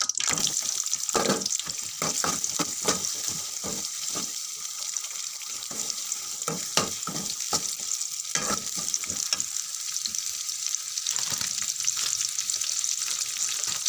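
Onion fries with whole spices (cinnamon, cardamom, cloves, bay leaf) in oil for a chicken curry with coriander, making a close, continuous sizzle with repeated crisp stirring scrapes throughout and no talk.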